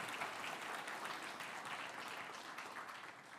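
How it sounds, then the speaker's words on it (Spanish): A church congregation applauds in steady, even clapping that holds for several seconds without a break. Moderately distant and fairly quiet, with no speech over it. "denle un aplauso al Señor por eso"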